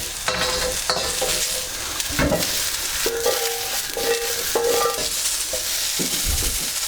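Mushrooms frying in a hot wok, a loud continuous sizzle broken by repeated scraping and tossing of the spatula, close and with no talk.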